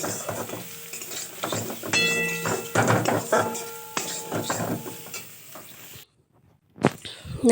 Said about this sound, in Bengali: এবার কড়াইতে সাদা তেল দিয়ে গরম হয়ে গেছে এবার পেঁয়াজ কুচি দিয়ে দিচ্ছি